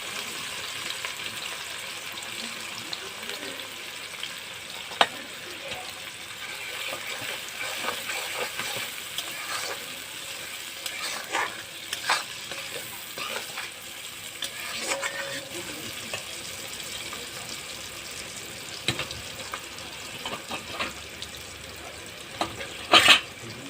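Onions and potatoes frying in hot oil in a pan, a steady sizzle with occasional stirring scrapes, close and continuous, with no talk.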